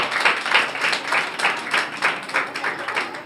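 Audience clapping at a district school event, a brief rhythmic burst of hand claps that rises and falls in rapid pulses, fairly close and alone.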